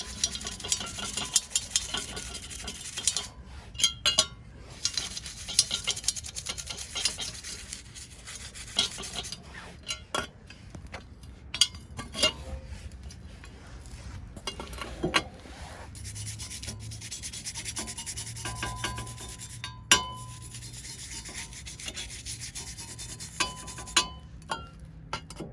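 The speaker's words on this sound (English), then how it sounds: "And let's get to scrubbing." Scrubbing a Dish Network 1000+ satellite dish with Dawn soap: close, continuous rubbing and scouring strokes in an uneven rhythm, with occasional sharper scrapes and knocks and no talking.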